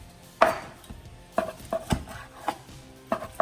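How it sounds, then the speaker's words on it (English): A knife cuts through firm beef seekh kebabs on a board, several separate sharp chops spaced irregularly, close and clear with no voices. "I'm gonna start cutting the kebabs."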